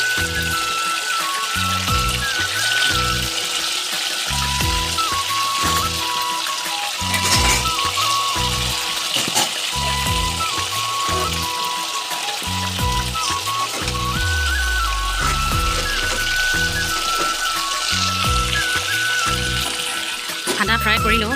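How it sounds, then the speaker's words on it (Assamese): Fish frying in a pan at home, a steady crackling sizzle running throughout, close and fairly loud, with background music or talk layered over it. "এয়া মাছ ফ্ৰাই কৰি আছোঁ"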